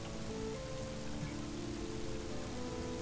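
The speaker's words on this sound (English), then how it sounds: "Let's just hope this rain puts out the fire." Steady, dense rain pours down in the video game Mother 3, a constant hiss filling the scene at even loudness with no breaks, accompanied by faint tonal game music beneath.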